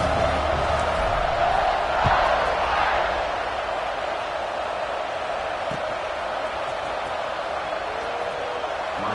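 A college football stadium crowd roars and cheers after a touchdown drive, a broad, distant-sounding wash of many voices that swells early and then holds steady.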